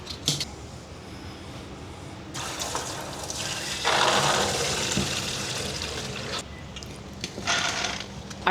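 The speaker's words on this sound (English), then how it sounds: "let me get these beans cleaned up and into the stock pot" Water gushes and splashes as dried beans are rinsed in a stock pot, a close, continuous rushing pour that swells louder in the middle and eases off before a final surge.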